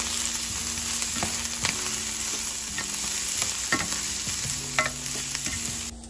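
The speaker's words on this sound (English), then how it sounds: "All right, well, the onions are cooking" Onions cook in oil in a pan for a vegan broccoli cheddar soup, giving a continuous close sizzle broken by regular scraping stirs of a spoon against the pan, with a brief drop in level at the end and no voices.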